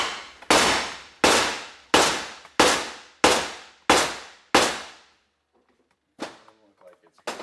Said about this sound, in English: get a hammer. And we'll try and bang this out.